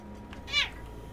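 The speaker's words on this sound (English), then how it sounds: "Cat's screaming at me." A single short cat meow in a quiet room, fairly faint and brief, rising and falling over about a quarter second with no talk.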